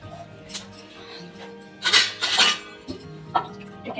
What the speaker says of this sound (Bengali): এটাকে আমি ছোট প্লেটে ঢাকা দিয়ে এই সাইড করে রাখলাম।